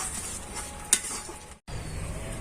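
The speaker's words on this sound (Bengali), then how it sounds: "এবার আমি নেড়ে চেড়ে মানে ডালটাকে একটা শক্ত ডো মতন করে নেব" Boiled mung dal is worked into a stiff dough in a pan, heard as soft continuous stirring with one sharp clink of utensil on metal and a momentary gap near the end.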